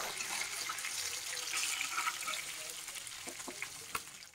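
Hilsa fish fry in hot oil for Bengali sorshe ilish, giving a soft, steady sizzle with scattered small crackles and pops, fairly faint and with no talking.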